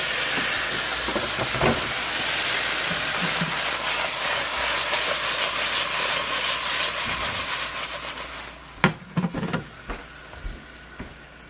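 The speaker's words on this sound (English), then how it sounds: "while the hot links are sizzling in the pan" Steady broad hiss of hot links (sausages) sizzling in a hot pan, continuous for most of the clip, then thinning out with a few sharp pops and clatters near the end.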